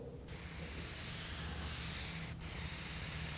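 An airbrush sprays paint in a steady, close hiss, laying down a streak, with a brief break near the end before the spray resumes.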